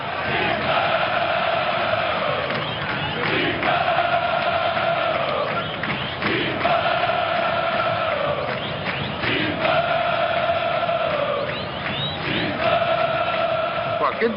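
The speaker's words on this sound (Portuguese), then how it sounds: "o torcedor tá lá cantando" Corinthians supporters singing in the stadium, a big crowd chanting in repeating waves of rhythmic song that fill the space, with a voice speaking over it.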